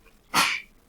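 A single sharp sneeze bursts out close by, brief and breathy, then fades into quiet.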